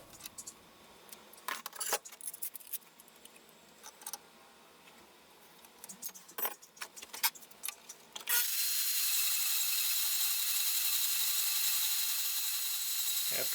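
A hand saw cuts flat bar stock for a DIY bumper grill on a Chevy Silverado 2500HD, with irregular sawing strokes and clatter, then a steady loud whooshing roar takes over abruptly.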